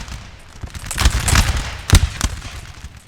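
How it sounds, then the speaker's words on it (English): Musket volley from Saxon line infantry in the Napoleon: Total War battle game, a loud ragged crackle of overlapping shots in several bursts, with sharper cracks standing out near the end. "The Saxons open fire."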